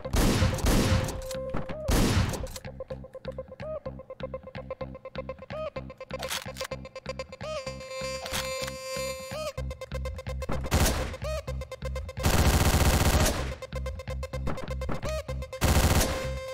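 Rapid bursts of gunfire from the top-down shooter Hotline Miami, loud and close, with repeated sharp shots and several dense volleys over a steady electronic music backing.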